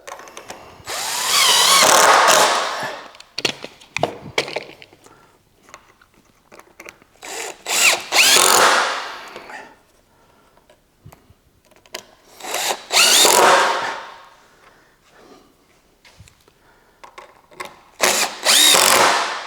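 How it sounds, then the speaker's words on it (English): Power drill driving screws into the wood of a homemade outboard motor engine stand, heard as four loud, close whirring bursts, each a couple of seconds long, with quieter clicks and handling noises between them. "Okay, we'll finish screwing this up."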